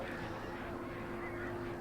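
Hostile birds in the Alan Wake video game, faint honking, goose-like calls over a low steady ambient hum, distant and quiet.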